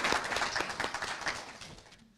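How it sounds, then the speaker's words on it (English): A round of applause at a military graduation ceremony, a dense burst of many hands clapping that gradually fades over about two seconds. "Let's give him a little round of applause."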